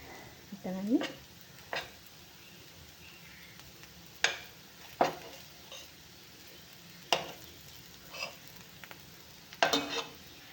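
Stuffed bitter gourds fry in a pan on a stove, a quiet sizzle punctuated by sharp utensil scrapes and clinks against the pan at irregular intervals, with no talking.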